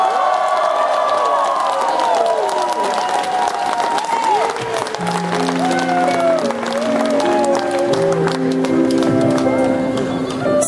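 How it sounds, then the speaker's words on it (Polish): A large concert crowd at a show in Zielona Gora, Poland, applauds and cheers loudly and steadily throughout, with whoops and a voice over the noise, and tonal music notes rising under the applause partway through. "Wielkie brawa!"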